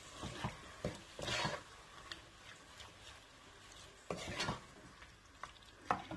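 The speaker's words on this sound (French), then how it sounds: "Voilà, je vais bien mélanger." Octopus pieces are stirred with salt and black pepper in a pot, giving a few scattered bursts of wet scraping and clinking against a quiet background.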